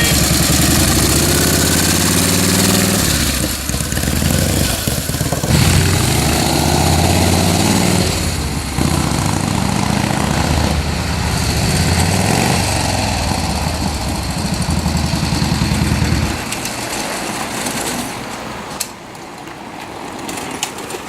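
Vintage American motorcycle engine running steadily, a loud, close, continuous rumbling idle that drops to a quieter, lower idle near the end.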